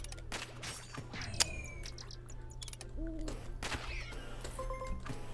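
An owl hoots in the mobile game Zombie Catchers, a few short game calls mixed with other in-game effects and a sharp click, all under a steady background hum.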